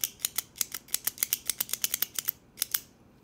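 Repeated crisp metallic clicks from a stainless steel Parker Jotter ballpoint pen, roughly twenty sharp, close snaps in an uneven quick rhythm, alone with no talking.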